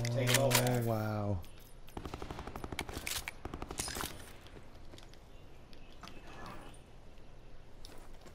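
Rapid bursts of gunfire crackle through a battle royale video game fight, with a voice talking at the start before repeated shots, some louder and closer, others fainter and distant.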